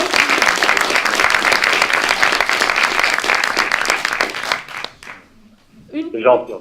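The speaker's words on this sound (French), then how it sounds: "Je ne sais pas si vous entendez les applaudissements." An audience at a conference on flooding and mudslides gives sustained applause, dense and loud, fading out near the end before a voice speaks briefly.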